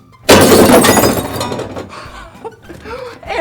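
A glass bottle shatters in a loud, sudden crash, followed by a brief tinkling of falling pieces that fades into quieter sounds.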